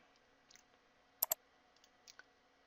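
Two sharp mouse clicks close together on a computer during a WordPress 4.4.2 installation, pressing the continue button, alone over quiet room tone.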